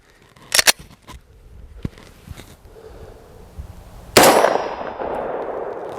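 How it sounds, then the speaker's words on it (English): A 90 grain Underwood 9mm round fired from a Glock 19X hits a 3A riot shield with a sharp metallic clang. A second loud impact with a ringing tail comes later, with smaller knocks in between. "I'm going to start off with the 90 grain Underwood ammo 9mm, and it's coming out of the Glock 19X"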